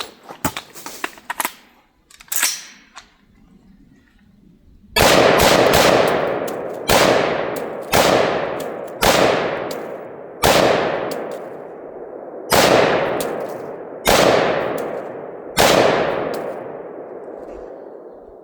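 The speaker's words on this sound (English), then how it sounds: "I thought it would be cool to make a really fast mag change and dump some rounds dead into our splatter target there" Rifle firing rapid rounds into a splatter target outdoors: a few faint pops and a rattle, then a loud series of about ten evenly spaced sharp shots, each trailing off in a long echoing decay.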